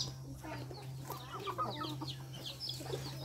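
Chickens cluck in a quick, busy chatter close by, several birds overlapping over a steady low electrical hum, with no talking.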